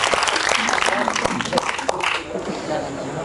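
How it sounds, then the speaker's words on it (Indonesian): Audience applause at an Indonesian youth creativity talk on a greener Indonesia, a burst of clapping that fades toward the end as a voice speaks over it. "Kita kasih tepuk tangan."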